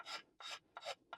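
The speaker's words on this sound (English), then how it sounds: "A sharp Morrison knife can also be used like a scraper." Sharp Morrison knife drawn as a scraper along the wooden neck of a cigar box stick dulcimer, four quick rasping strokes in an even rhythm, close and crisp with short silences between.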